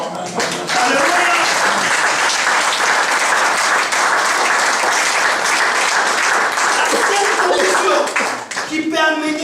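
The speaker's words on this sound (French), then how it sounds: "il fallait acclamer très fort" A church congregation claps loudly and continuously for about eight seconds during a sermon, a dense, close wall of applause.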